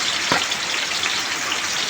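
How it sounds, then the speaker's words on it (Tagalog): Heavy rain falls steadily at a home in Magsaysay, Occidental Mindoro, a dense, even hiss of water that holds without pause over the short stretch. "Ang lakas ng ulan dito"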